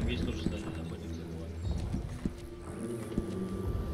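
A horse gallops in the video game Red Dead Online, its hooves giving a steady run of soft, rhythmic thuds at moderate distance over a low game-world background, with faint voices in places.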